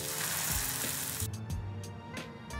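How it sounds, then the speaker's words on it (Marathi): Pav bread toasting on a hot pan in butter with chilli thecha, giving a loud, steady sizzle and crackle, joined partway through by a few quick scraping taps of a spatula. "पाव भाजताना बटर आणि ठेचा टाकून घ्यायचा"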